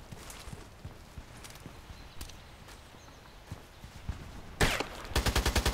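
Gunfire in the online shooter Contract Wars: scattered distant footstep-like taps, then a loud shot followed by a rapid, evenly spaced burst of automatic fire close by, with no talking.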